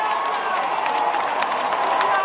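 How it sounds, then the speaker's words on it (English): A large crowd of thousands in St. Peter's Square at the Vatican cheers steadily for a newly elected pope as white smoke rises, a dense, continuous roar of voices and applause at moderate distance. "Thousands cheering when white smoke emerged from the chimney at the Vatican Sistine Chapel"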